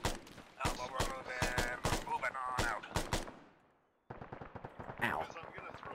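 Bursts of gunfire crack out in a co-op shooter video game, sharp repeated shots in quick clusters, a brief lull, then more rapid fire. Voices talk underneath.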